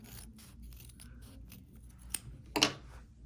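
Scissors cutting out a paper heart for an ornament, with soft snips building to one louder, close crunching cut near the end, alone in a quiet room.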